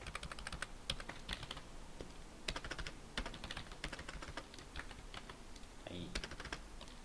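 Close, quiet clatter of fingers typing on a computer keyboard, a steady stream of light key taps with occasional louder strikes while entering Python code.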